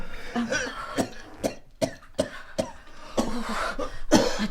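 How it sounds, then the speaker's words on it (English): Repeated harsh coughing, a series of sharp bursts spaced irregularly over several seconds, close and fairly loud, with no talking. "don't like the sound of that cough"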